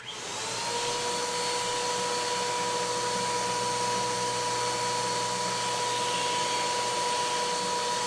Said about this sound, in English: And then I'll take the vacuum hose and vacuum as much of the dust out as I can.